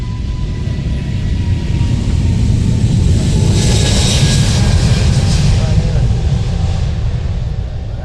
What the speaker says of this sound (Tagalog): Nagre-ready na siya na pagdaan ng aeroplano.